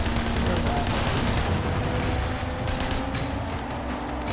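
Gunfire in the video game Sleeping Dogs, a dense continuous barrage of shots over a loud roaring game mix that fills the whole clip.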